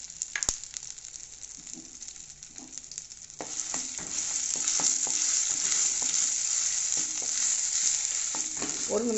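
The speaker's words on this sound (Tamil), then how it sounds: "ஒரு நிமிஷம் இப்படி கிளறி விட்டால் போதும்" Crushed pirandai paste with curry leaves, mustard seeds and urad dal sizzles steadily in hot oil, stirred with a spoon that scrapes and taps the pan in an irregular rhythm, close and fairly loud, growing louder after a few seconds.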